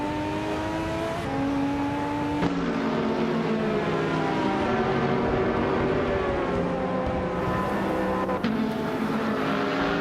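A 2009 Pagani Zonda R and other race cars in a racing video game roar steadily at high revs, the engine pitch climbing and dropping with several gear shifts. The sound is loud, close and continuous.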